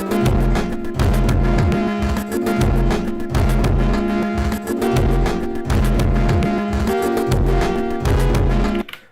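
Electronic music from a live set on an Elektron Octatrack and Analog Four, playing loud and steady with a pulsing, looped beat and layered synth tones for about nine seconds before stopping abruptly.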